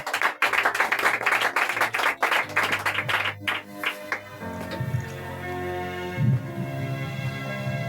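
A church congregation applauding and acclaiming Jesus Christ: loud rhythmic clapping in bursts for about four seconds, then fading into sustained keyboard music and voices.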